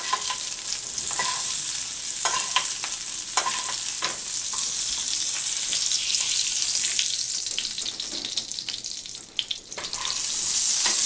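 Foie gras searing in a hot pan gives a loud, steady sizzle and crackle with scattered pops and spits throughout, close and continuous with no voices.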